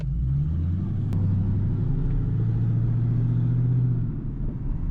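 A Pontiac G8 driven over rough, uneven pavement, its worn front sway bar end links rattling in a steady busy clatter beneath a loud, continuous low engine and road rumble, with no talking.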